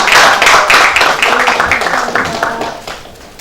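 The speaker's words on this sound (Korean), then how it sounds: "여러분들 큰 박수로 격려해 주시기 바랍니다." Audience in a Liberty Korea Party floor strategy meeting breaks into dense, sustained applause, loud and close at first and gradually fading over a few seconds.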